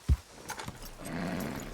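A single heavy hoof thud followed by a few lighter horse steps in the video game Red Dead Redemption 2, then a low steady rumble of background noise.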